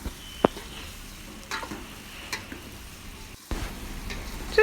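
Vegetables for sambar are stirred in a pot with a spoon, giving scraping knocks and a few sharp clinks over a soft, continuous sizzle.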